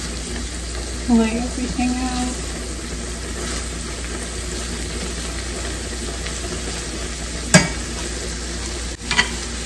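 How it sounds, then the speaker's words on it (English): Tomatoes cooking in a pan for garlic shrimp pasta make a steady sizzle with stirring scrapes, a brief spoken phrase and a couple of sharp clatters near the end. "So as you can see, my tomatoes are cooking"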